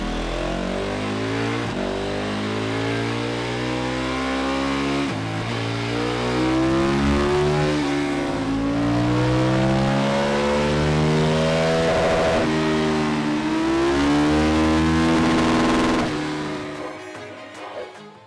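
A KTM 1290 Super Adventure S motorcycle, tuned to Stage 3 with a DNA filter, revs hard on a dyno. The loud, sustained engine note climbs and falls through the rev range for about seventeen seconds, then cuts off.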